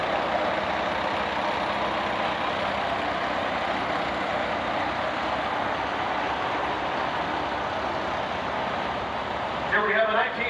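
A 1929 Case vintage tractor rolling by in a steam show parade, a steady low engine rumble with outdoor crowd noise, and a voice speaking briefly near the end.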